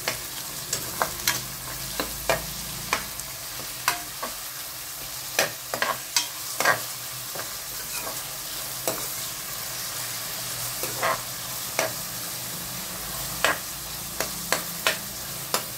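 Finely chopped onions fry in oil tempered with cumin and curry leaves as a close, steady sizzle, punctuated by repeated sharp stirring scrapes and pops in a loose rhythm, with no voices.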